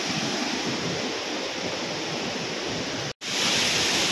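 A hidden jungle waterfall at Thipakhol pours with a dense, steady roar of rushing water, loud and close, broken only by a momentary dropout near the end.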